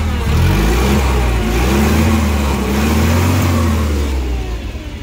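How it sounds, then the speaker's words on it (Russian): A Toyota 6FG15 forklift engine runs close by with the hood open, a steady, loud, low mechanical hum with a smooth, even idle and slight rises in pitch. "Вот, собственно, работа двигателя."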